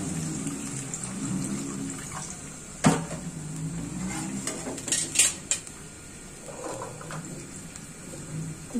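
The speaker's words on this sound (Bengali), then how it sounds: "এখন পানি দিয়ে দিচ্ছি।" Water is poured into a cooking pan of sautéed onions for a papaya stir-fry on a home stove, giving a soft steady rush with a few clinks and clatters of utensils against the pan, close and alone.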